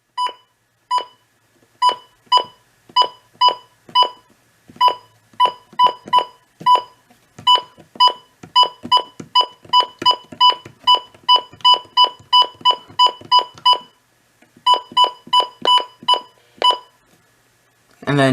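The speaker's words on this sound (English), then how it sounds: "here are the valid bun beeps" A long series of short, clean electronic beeps from a Midland WR100 weather radio, sounding in quick regular runs with brief pauses between groups, close and clear.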